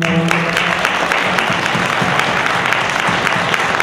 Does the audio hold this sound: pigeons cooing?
no